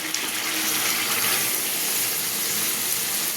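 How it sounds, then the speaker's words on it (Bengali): Hot water poured from a pot into partly cooked, braised meat, a steady close rushing gush that runs without pause and without any talk. "এখানে আমি একটু জল গরম করে রেখেছিলাম, সেই গরম জলটা দিচ্ছি।"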